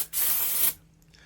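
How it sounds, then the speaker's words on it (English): A single short hiss of silicone spray from a nearly empty can is sprayed into a Tokyo Marui MWS airsoft rifle, close and loud, then cuts off sharply. "Quick spray in there"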